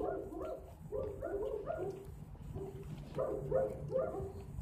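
A dog barks repeatedly in a steady series of short, mid-pitched barks outdoors in a residential neighborhood near a house under construction, fairly close and loud, with no talk over it.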